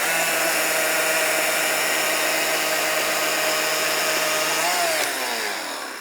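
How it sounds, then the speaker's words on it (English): An Ego CSX5000 battery chainsaw drones at a steady high pitch as it cuts through wood under its own weight, then the pitch drops slightly and the noise begins to fade near the end. "Now I'm not pushing down on the saw as I'm sawing through this."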